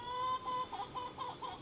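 Hens on a ranch giving a short run of clucks, a few pulsing, slightly tonal calls close by over a quiet background.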